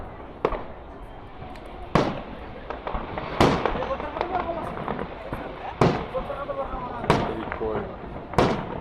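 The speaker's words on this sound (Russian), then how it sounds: "Так себе салютик." Fireworks bursting over a city celebration for Builder's Day in Naberezhnye Chelny, with sharp booms at irregular intervals every second or two over crackling and a steady crowd murmur, while people chat nearby.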